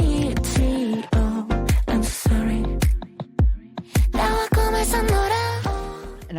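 Excerpt of an experimental K-pop song, with loud, dense music full of sharp percussive hits, stuttering stops and brief near-silent gaps around the middle before the full arrangement returns.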